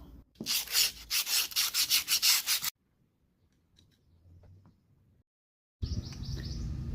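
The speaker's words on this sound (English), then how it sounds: "A little sanding on the corners and the outside of the new shoes" Rhythmic rubbing strokes of sanding the corners and outsides of new rear drum brake shoes for a 1995 Toyota RAV4, about a dozen quick passes, then quiet with faint scraping, then a steady broadband hiss.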